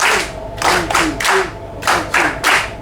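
A concert audience claps a three-beat rhythm in unison, three bursts per group repeated twice, loud and close in a room, without talk.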